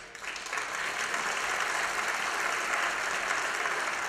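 Sustained applause from a concert audience in Romania, steady and dense, filling the whole stretch without any voices over it.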